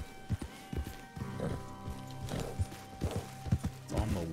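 Horse hooves in Red Dead Redemption 2 clip-clopping at a walking pace in an uneven rhythm, fairly close, with a brief whinny and a steady hum behind.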